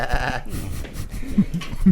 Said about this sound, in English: That's a little dog that looks like it is trying to speak goat with you.